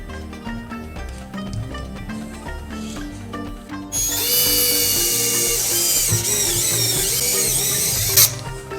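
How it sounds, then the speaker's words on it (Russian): A needle-thin drill bit bores round holes through a part for a 145 MHz J-antenna. A steady, high whirring drill starts partway through over background music and runs continuously, with a brief sharp burst near the end. "Я буду сверлить иголочкой."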